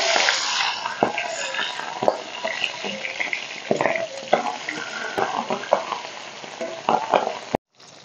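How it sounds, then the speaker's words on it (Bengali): Bhola fish frying in hot oil in a pan for a spicy jhal, a steady crackling sizzle punctuated by spatters and utensil scrapes, close and continuous before cutting off at the end. "মাছগুলো ভাজা হয়ে গেছে"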